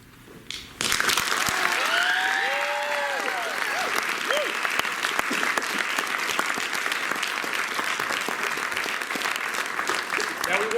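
A crowd at a school National Letter of Intent assembly breaks into loud, sustained applause that starts abruptly and continues steadily, with a few whistles and cheers rising briefly near the start.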